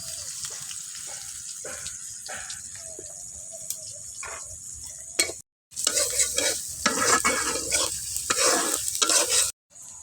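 Onions hit the oil in a kadai with a sudden loud sizzle that follows a quieter stretch of light kitchen clatter. The sizzle crackles steadily and breaks off briefly once, with no talking.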